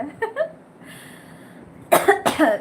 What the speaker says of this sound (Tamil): அதில் தொண்டை எனக்கு இருமல் இருக்குல்ல